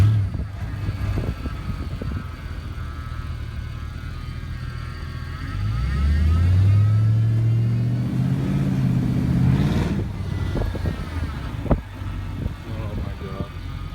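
A 1969 Ford F250 truck with no hood and an engine that is not yet bled of air makes a lap around the block. Its steady engine drone rises into a loud revving pull midway, then settles, with a person talking over it.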